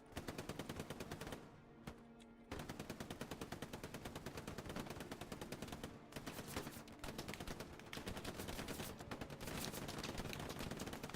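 Dense bursts of rapid automatic and single-shot gunfire crackle nearly nonstop in a shooter video game, with a couple of brief gaps, loud and close, no talk.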